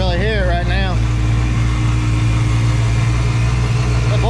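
Supercharged Ford Mustang fox body engine idling, a loud steady low rumble with a constant drone throughout, while a person talks briefly at the start.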